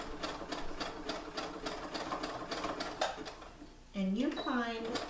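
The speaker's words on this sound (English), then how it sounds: "And then just keep on sewing up." Sewing machine stitches a peasant dress in a rapid, even mechanical rhythm for about three seconds, then stops. Brief clattering handling noises follow.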